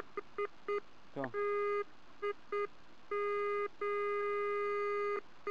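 A metal detector sounds over a buried gold target with a series of short electronic beeps that build into longer sustained tones, clear and close with no talking.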